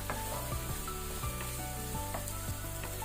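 Tomato masala fries in butter in a pan for a mushroom butter masala, a steady close sizzle with soft scraping and stirring knocks recurring every half second or so, no voices.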